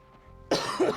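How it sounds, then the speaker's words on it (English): Near a soft background hum, someone coughs sharply twice in quick succession, close to the microphone. "Sorry for not muting that cough, guys."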